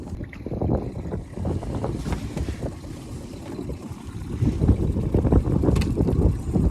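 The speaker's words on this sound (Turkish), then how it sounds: "rüzgar beni sürekli açığa dayanıyor ve ben de tornistan yaparak geri tutmaya çalışıyorum" A boat motor churns steadily in reverse in a low rumble, buffeted by gusty wind noise across the microphone, growing slightly louder toward the end.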